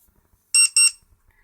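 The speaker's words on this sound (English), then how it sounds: "That's the double beep." An iSDT BG-8S smart battery checker gives a crisp, high-pitched double beep, two short tones in quick succession, close and alone in a quiet room.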